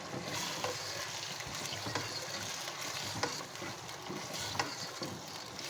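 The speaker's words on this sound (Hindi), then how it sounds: "अब इसका हम कलर चेंज होने तक फ्राई करेंगे।" Chicken frying with garlic and ginger in a pan, a steady close sizzle with scraping stirring strokes throughout.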